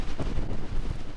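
Strong gusting wind buffets the microphone on a mountain summit before dawn, a steady broad roar with low rumbling surges throughout, no voices.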